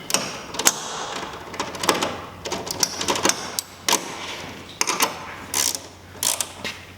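A bolt being tightened on a theft-deterrent LED light mount on a duck boat, with a steady run of close, loud ratcheting clicks and metallic mechanism noise in uneven bursts.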